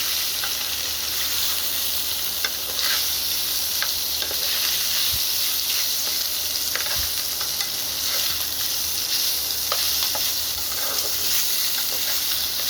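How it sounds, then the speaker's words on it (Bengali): Small gucchi fish fry slowly in a pan over a solar-powered cooker, producing a continuous close hiss and sizzle with occasional spatula scrapes and taps as they are stirred, alone without voices. "মাছগুলোকে ভেজে নেওয়া হচ্ছে আস্তে আস্তে।"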